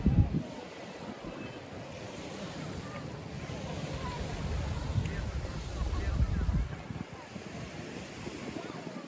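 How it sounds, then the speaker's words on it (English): Surf washes onto the beach at Playa d'Or in Alcudia, Mallorca, a steady low rumble of waves with wind buffeting the microphone, swelling slightly midway and continuing without a break. "this is your local beach, your Playa d'Or"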